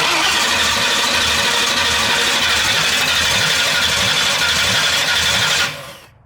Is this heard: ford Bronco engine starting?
yes